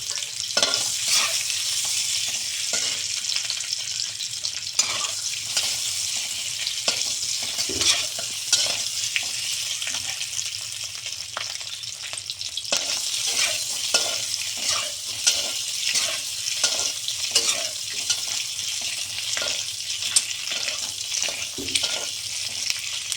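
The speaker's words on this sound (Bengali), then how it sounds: "এখন আমি একটু ভেজে নিচ্ছি।" Eggs rubbed with turmeric and salt fry in a hot pan, a steady bright sizzle running throughout with frequent scraping stir strokes and light clinks, close and continuous with no talking.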